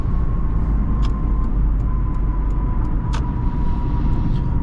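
2006 Subaru Forester 2.5 X heard from inside while driving on the road: a steady, loud low engine and road rumble with light throttle and a faint constant whine, plus a few small ticks and rattles.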